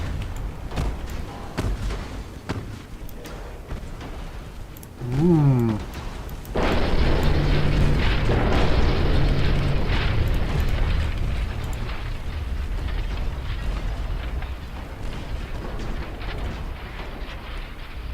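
A French armored cruiser blows up from fire in the naval warfare game Ultimate Admiral Dreadnoughts: a low battle rumble, then a sudden heavy blast that swells into a loud, sustained roaring boom.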